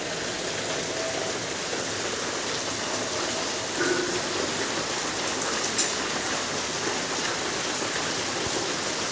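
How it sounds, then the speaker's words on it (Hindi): Steady rain falls at night during bad weather, a dense, even hiss of drops on surfaces that continues unbroken throughout, with no voices. "रात दे बदल गंजी आता तो मीह पै रहा है, तो मौसम काफ़ी ज़्यादा खराब आ।"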